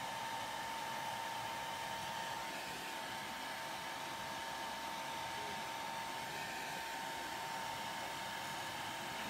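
Hair dryer or air blower running steadily at close range to dry a mixed media art piece, a loud continuous whooshing roar with a faint whine, unbroken for the whole stretch with no talking.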